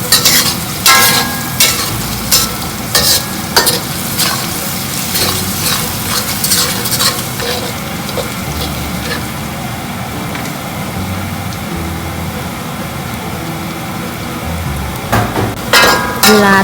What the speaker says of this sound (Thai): ต้องให้น้ำมันร้อนมากนะคะ ใส่ลงไปเลย คนเรื่อย ๆ ค่ะ